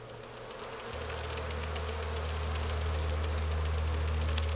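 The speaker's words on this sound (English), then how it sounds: "Are those bees?" Bees in Dragon Age: Inquisition hum as a steady, continuous drone, moderately loud and unbroken for several seconds, with no voices over it.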